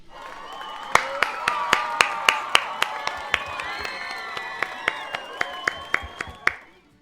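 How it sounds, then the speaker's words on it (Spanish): A small audience breaks into applause at the close of an episode, with dense steady clapping and some cheering and whoops, alongside loud, sharp, regular claps close to the microphone. "Un aplauso."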